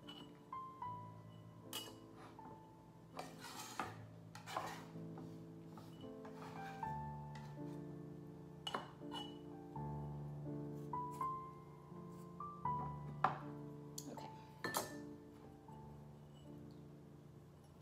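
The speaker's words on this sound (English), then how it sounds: "You're gonna take your jar and just scoop your minced garlic into the jar." Minced garlic is scooped into a glass jar, with soft scattered clinks and taps of a utensil against glass at low volume over quiet background tones.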